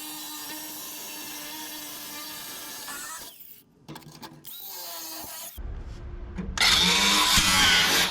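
A power tool cuts a rusty piece from the core support of a 1972 C10 truck, whining and grinding in stops and starts with short gaps, then running harsh and loud at the end.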